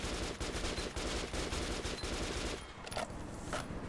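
Rapid automatic gunfire in Metro 2033 Redux, a steady rattling burst of closely spaced shots that cuts off near the end, followed by a couple of sparse clicks and thuds.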